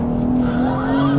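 BMW 440i Gran Coupe in Brooklyn Grey, its rear sliding under acceleration out of a turn, with a loud continuous engine drone and a rising tire squeal close and steady throughout.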